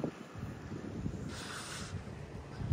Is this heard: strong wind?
yes